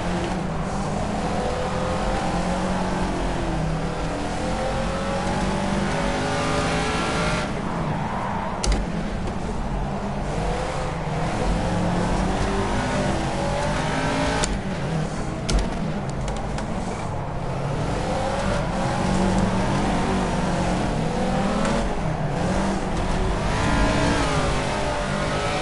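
A Caterham Seven race car circles Monaco in Project CARS, its engine droning and revving steadily throughout, with gear shifts and short dips in pitch but no pause.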